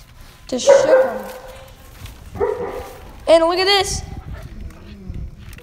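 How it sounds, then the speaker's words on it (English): A pet dog barks in a few short bursts in the background while someone talks over it, commentating a backyard wrestling match. "that's my dog barking in the background"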